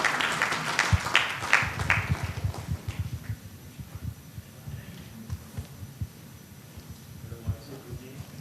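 An audience at a seminar on Benami law and the Income Tax Act welcomes a speaker to the podium with applause: brief, brighter clapping at the start that fades into a low, muffled room rumble and hum.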